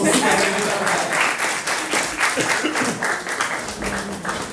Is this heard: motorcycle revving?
no